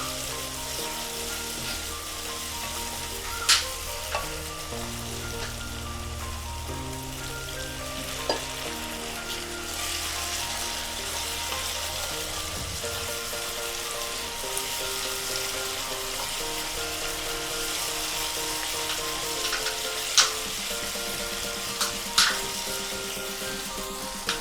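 Pomfret fish frying in masala with garam masala in a pan, a continuous close sizzle and crackle lasting throughout, with occasional sharp pops and clicks over a steady hum.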